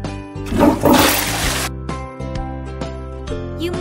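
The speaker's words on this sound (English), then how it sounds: "And you flush the toilet?" A toilet flushes in the My Baby Unicorn pet-care video game: a loud rushing whoosh swells and drains away over about a second, layered over bright, cheerful game music that continues after it.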